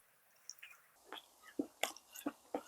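Soft, moist chewing of a bite of rolled egg omelette with bell pepper, drizzled with perilla oil, as a few distinct close-up bites and mouth sounds in a quiet room.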